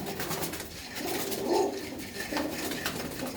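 Pigeons cooing softly at close range, a few low rolling coos rising and falling over a faint background hum, with no voices.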